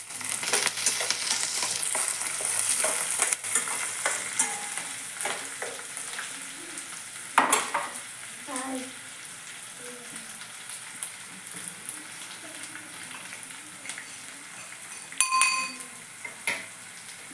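Chopped onion and green chillies fry over low gas in a pan, a steady close sizzle that slowly fades, broken by occasional scraping stirs and clinks.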